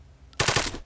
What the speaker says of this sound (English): If we were to shoot him now,